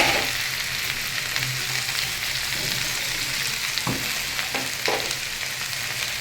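Okra (ladies finger) sizzles steadily in hot oil as it is stirred, with a few sharp scraping clicks of the spoon against the pan, close and continuous.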